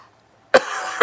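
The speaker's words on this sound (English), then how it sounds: "I'm coughing up blood" A person coughs twice, close and loud: two sharp harsh bursts about half a second apart, the first trailing into a rough exhale, with no talking.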